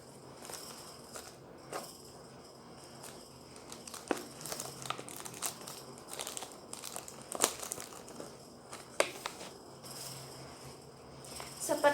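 A thin plastic sheet crinkles and rustles up close as it is stretched over a plastic cup holding a nail and fastened with a rubber band, in irregular crackly bursts with a few sharper snaps.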